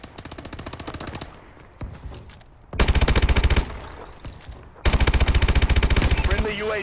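Rapid automatic gunfire in Call of Duty Advanced Warfare, loud close bursts of machine-gun shots with a brief lull between sustained volleys, amid battle noise.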